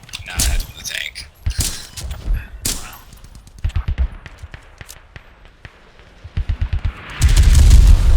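Artillery barrage in the Squad military shooter: a string of heavy booms and sharp blasts at uneven intervals, some close and loud, others farther off, building into a dense rumbling roar at the end.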